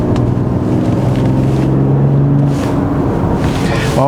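A 2021 Genesis GV80 3.0 diesel AWD accelerates hard on a winding road, its engine droning loud and steady with a rising tone as revs climb, heard from inside the cabin.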